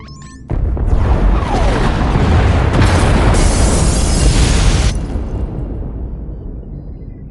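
Pod bays blown apart in a sci-fi game, a massive, close explosion that erupts suddenly into a roaring, crackling blast sustained for several seconds before easing into a lower rumbling tail.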